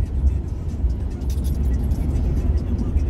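A pre-production Nissan Ariya electric car in sport mode hums low and steady on the Montlhéry circuit, building slightly as it accelerates, with a constant rumble and road noise throughout.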